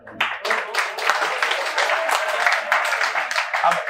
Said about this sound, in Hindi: अब आधों ने ताली इसलिए नहीं बजाई क्योंकि उनको समझ में नहीं आया